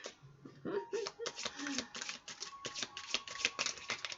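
Tarot cards are shuffled by hand in quick, close clicking and flicking bursts, with a brief low voice or chuckle near the start.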